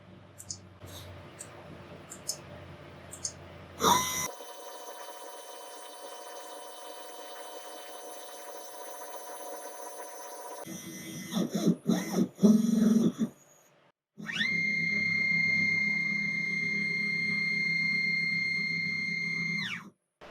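A restored CNC milling machine runs a tool change test, swapping a 1/4 inch end mill and a 3/8 end mill between holders, with mechanical clunks, clicks and clattering bursts, then a steady whining motor hum near the end.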